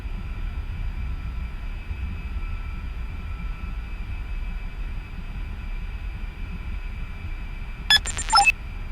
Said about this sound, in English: using the A10, shortly after landing, you will get a master caution warning for a short amount of time